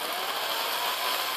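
Power drill whirring steadily while it twists wire for an over-under vape coil build. The motor runs as a continuous, close, fairly loud buzz with no pauses and no talking.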